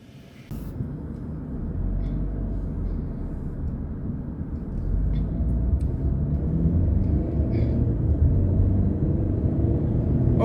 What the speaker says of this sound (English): Okay, now I'm driving to the Masjid.